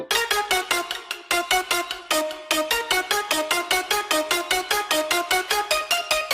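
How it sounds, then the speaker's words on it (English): Bright plucked synth lead notes from an electronic dance music drop made in FL Studio, repeating in a steady, fast rhythmic pattern, loud and clear with no voices. "The main sound is a pluck lead in the bass"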